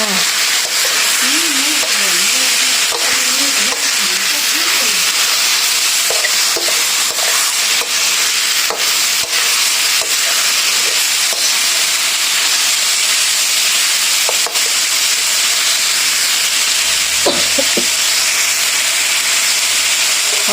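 A vegetable curry with turmeric, cooked with fish innards, is stir-fried in a pan. It gives a steady, loud sizzling hiss for the whole stretch, with scattered scraping and clinking from stirring and no talk.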